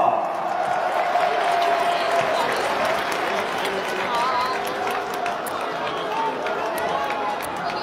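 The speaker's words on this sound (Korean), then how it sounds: "다시 한번 힘찬 박수 부탁드리겠습니다" Sustained applause from a large stadium crowd at a soccer ground, dense steady clapping with a cheering murmur underneath, a broad wash of sound holding for several seconds and easing slightly toward the end.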